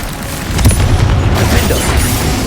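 A Confringo explosive spell goes off in Hogwarts Legacy, a loud rumbling boom with sustained low roar and crackle filling the whole moment, no talk over it.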